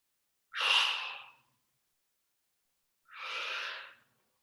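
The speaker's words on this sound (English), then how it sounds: "Find a rhythm for your breathing." Two heavy, breathy exhalations during a squats workout, about two and a half seconds apart, close and loud against silence, with no talk.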